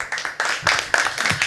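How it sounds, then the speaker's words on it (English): An audience at a startup pitch event in Lisbon claps to welcome a speaker, a short, uneven spatter of hand claps with a few sharper hits. "please welcome with warm applause Luís Lamy, co-founder of Safety Scope."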